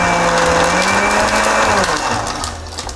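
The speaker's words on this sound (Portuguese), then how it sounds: "a Impacto tem aqui esse liquidificador que dá pra quebrar o galho" Countertop blender whirring in a kitchen while making farofa for smash burgers, a loud continuous motor whine that drops in pitch and trails off toward the end, no talking over it.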